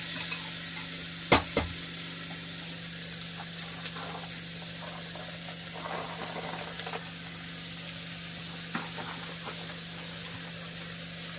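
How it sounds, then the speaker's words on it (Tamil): Ginger and garlic sautéing in oil for a mixed vegetable kootu, a soft steady sizzle with a few louder clanks of a spoon against the pan near the start and occasional stirring scrapes, no voices. "இந்த எண்ணெயிலையா இஞ்சி பூண்டு எல்லாத்தையுமே அப்படி வதக்கியே விடணும்."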